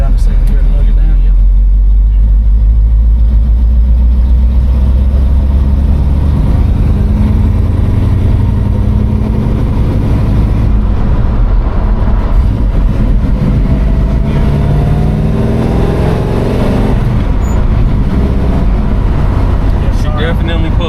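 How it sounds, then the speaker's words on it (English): A 1970 Chevelle's engine lugging low in second gear while driving, a deep rumbling drone with road noise heard from inside the car, with people talking over it at times. "Go down the second gear to lug it down"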